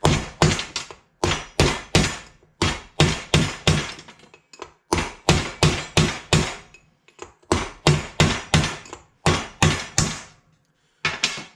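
Repeated hammer blows punch out the wheel shaft on a Graco LineLazer 4 5900 line striper, sharp metallic thunks in quick bursts of three or four separated by short pauses, loud and close with no talking.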